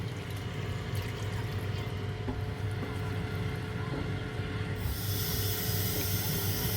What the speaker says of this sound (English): I'm going to add another cup of water to it as well